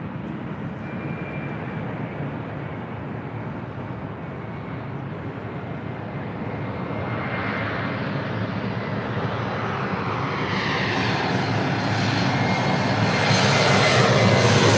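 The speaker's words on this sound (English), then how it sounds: "this is Delta Airlines 2412 taking off to Dallas Love Field on an" A Delta Airlines Airbus A319 takes off at LAX, its engine roar steady and broadband, then swelling louder and brighter over the final seconds as the jet powers up and climbs away.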